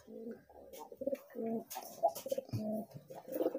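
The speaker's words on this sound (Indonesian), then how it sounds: "Nah, tuh, lihatin merpati pijikan, dia respon bekur." A pigeon coos repeatedly in low, throaty rolling phrases, close by, responding to another pigeon, with brief pauses between each burst.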